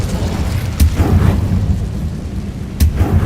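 A fire spell cast in Hogwarts Legacy, two deep booming bursts landing about two seconds apart over a low rumbling game soundscape.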